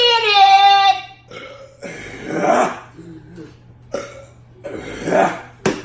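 In a burp contest, several loud, close burps follow one another with short pauses, some long and drawn out, some short and abrupt.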